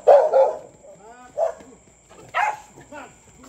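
Dogs at a remote rural home bark in three sharp, close bursts spaced about a second apart, with quieter yips and whimpers between them.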